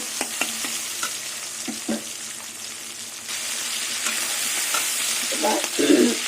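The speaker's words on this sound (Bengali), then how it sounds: "এই চিংড়ি মাছ ভাজার মধ্যেই আলু দিয়ে দেবো আলু পেঁয়াজ টমেটো" Shrimp frying in oil with potatoes, onions and tomatoes for a soybean-shrimp dish, a steady sizzle with repeated spatula stirs and scrapes, growing louder and busier toward the end.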